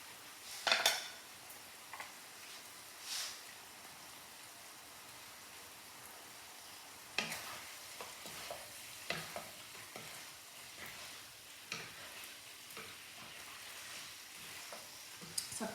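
Minced pork sizzles softly in a pan while a utensil stirs and scrapes it in occasional bursts, quiet and close, with no voices.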